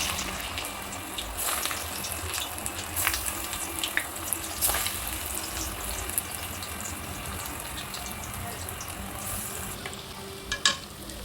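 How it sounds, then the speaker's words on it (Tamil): Banana flower vada patties frying in hot, boiling oil, a steady close crackling sizzle with faint stirring clicks, no talk over it. "இப்போ நம்ம எல்லா பருப்பும் எடுத்து தட்டி போட்டுடலாம் எண்ணெயில்."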